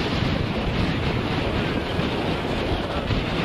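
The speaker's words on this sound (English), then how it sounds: "So, Kaylin, how's it feel being in a tropical storm?" Tropical Storm Ernesto drives wind and crashing surf onto the beach at Seaside Heights, New Jersey, a loud, steady roar of gusts and breaking waves buffeting the microphone, with no voices.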